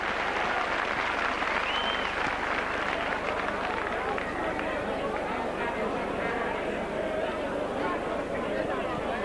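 A large rugby league crowd at a St Helens versus Warrington match roars and claps continuously, a dense sustained wall of cheering and applause with a commentator's voice faintly underneath.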